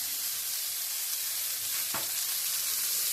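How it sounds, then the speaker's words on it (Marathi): Boiled peas sauté in an oil tempering with garlic, ginger and green chili, giving a continuous bright sizzle and one brief stir in the middle. "2 ते 3 मिनिटं मटार आपल्याला फोडणीमध्ये परतून घ्यायचे आहेत."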